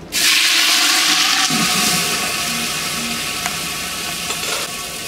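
Loach dropped into hot, aged oil in a wok, a loud sizzle that bursts up at once and then holds as a steady, dense frying hiss, with a few soft clinks near the end.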